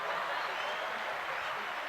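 Steady applause from a podcast audience, a dense continuous wash of many hands clapping together at moderate loudness for the whole stretch, with no pauses or distinct single claps standing out.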